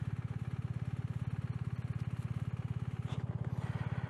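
A classic Japanese motorcycle engine runs steadily nearby with a fast, even thumping pulse and a brief rise around the three-second mark, no voices over it.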